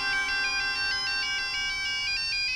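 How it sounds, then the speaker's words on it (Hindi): A mobile phone rings with a bright repeating electronic melody, steady pulses of tones continuing throughout in an indoor setting, with no talk over it. "तूने मोर बोला और मोर का फोन आया।"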